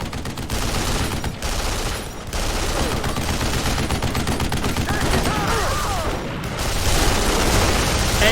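Heavy turret gunfire in Duke Nukem Forever, long dense bursts of rapid shots with brief gaps, mixed with booms and mechanical clatter, loud and continuous throughout.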